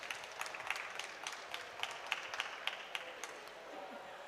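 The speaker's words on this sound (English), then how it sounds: "A round of applause for her, please." Sparse, fairly faint clapping from a conference audience at COP27 honouring a youth adaptation entrepreneur, individual claps distinct and uneven rather than a dense ovation.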